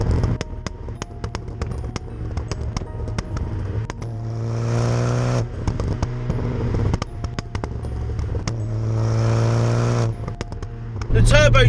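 Inside a Fiat Punto Abarth with a Plafo exhaust and a Garrett turbocharger, the engine revs up in two strong pulls with a rising whine. Someone talks over the engine between and during the pulls.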